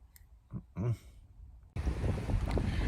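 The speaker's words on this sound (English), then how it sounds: "because it's very windy" A few soft voice sounds, then strong wind suddenly buffets the microphone outdoors at a camping spot with a loud, continuous rushing roar.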